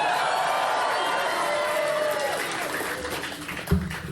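Crowd applauding and cheering for Prime Minister Anthony Albanese at an Australian election night event, a dense sustained roar of clapping and shouts that fades slightly, ending in a brief thump.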